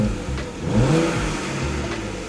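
A BMW E90 with aftermarket exhaust cutouts closed in mild mode revs as a low, steady engine rumble with a brief rising rev near the middle, fairly close and with no talking.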